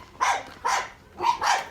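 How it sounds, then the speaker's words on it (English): Dogs barking inside a house in Kinoo, Nairobi, Kenya: four sharp, loud barks in quick succession, close by, with no voices. "dogs there, but they're inside."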